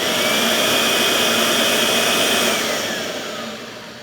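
Kirby G4 upright vacuum cleaner with its power head switched on, a loud steady motor whine with a rushing airflow hiss that holds for a few seconds, then slowly fades as the motor winds down.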